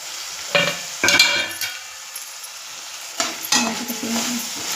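Potato and capsicum sabzi is stirred in a frying pan, giving two short bursts of spoon scraping and sizzle with a quieter gap between them and a steady fry underneath.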